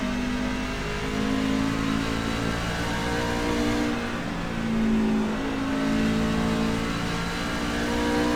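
A race truck on an oval track with high-speed shock adjustments drones steadily under load, its engine tone holding high, then dipping and climbing again in slow waves as it rounds the corners on a lap run.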